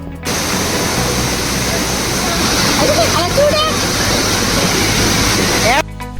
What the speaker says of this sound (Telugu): చాలా గట్టిగా తగిలిన వాటర్ ఫ్లో అయితే చాలా దారుణంగా ఉంది, ఎందుకంటే రైనీ సీజన్ కదా.